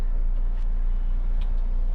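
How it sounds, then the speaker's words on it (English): Steady road traffic passing heard from inside a vehicle, a constant low engine and road rumble with no distinct individual cars standing out. "As you can see, you've got traffic coming that way, you've got traffic coming that way."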